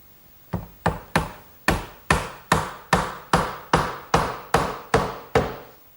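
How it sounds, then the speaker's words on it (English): Hammer driving a glued 3/8-inch birch dowel into a hole in a wooden garden bench, about a dozen sharp, evenly spaced knocks, close and crisp, each ringing briefly before the next blow. "Just dab a little inside the hole so that when I drive the dowel in, it'll get glued and it won't pop out later."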